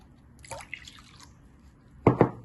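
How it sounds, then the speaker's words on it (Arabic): Water poured from a glass into a flourless batter for pan pancakes, with a few faint drips early on, then two short, close splashy gushes near the end. "ونزيدو كاس ديال الماء"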